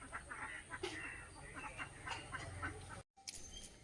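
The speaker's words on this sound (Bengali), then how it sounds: "হাঁসগুলো খেলছে।" Ducks quack and splash while playing on a rain-filled village pond, with several short calls scattered over a background of outdoor ambience and a brief dropout near the end.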